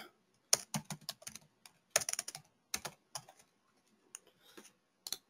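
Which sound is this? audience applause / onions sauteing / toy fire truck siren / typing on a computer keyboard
typing on a computer keyboard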